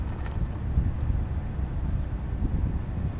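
Steady wind roars against the microphone while lure casting for fish, a dense low rumble with mild gusting and no talking.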